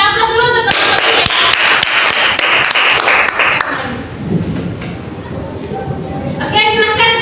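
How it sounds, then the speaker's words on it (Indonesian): Classroom applause for a student group, dense clapping from many hands filling the first few seconds, then thinning out as a voice speaks over the room. "Kita aplaus dulu untuk kelompok 3."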